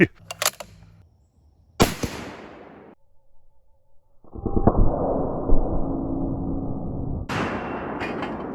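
A 50 BMG rifle fired at a mild steel plate: several sharp, loud bangs with ringing decay, then a sustained rushing burst before a final crack, with no talking.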